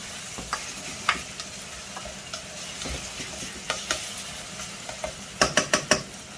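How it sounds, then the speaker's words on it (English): Onions fry in a pan for lamb moussaka while a utensil scrapes and taps through them, a low sizzle under scattered knocks that turn into a quick run of louder clacks near the end. "just stir these onions continuously"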